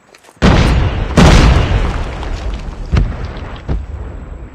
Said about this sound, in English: Grenade, move!